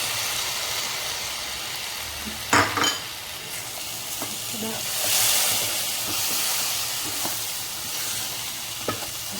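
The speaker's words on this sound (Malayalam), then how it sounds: "ഉള്ളി പേസ്റ്റ് ഇങ്ങനെ ഇതുപോലെ വഴന്ന് വന്നിട്ടുണ്ട്" Onion paste sautéing in a pan on a lowered flame, a soft continuous sizzle with a few sharper scrapes and clinks of stirring.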